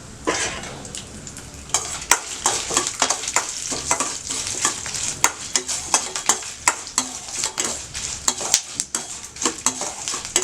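Garlic cloves and dried red chillies fry in a pan, with a steady close sizzle broken by frequent sharp scrapes and clinks of a spoon stirring against the metal, and no talk.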